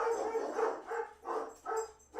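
Several dogs bark in repeated bursts, four or five loud, mid-pitched barks at an irregular pace, somewhat distant and alone without talking.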